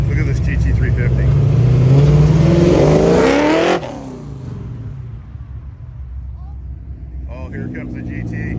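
A Ford Mustang GT350 muscle car revs loudly at a cruise rollout, its engine note climbing steadily before cutting off sharply; a quieter rumble follows and another vehicle approaches near the end, with people talking over it.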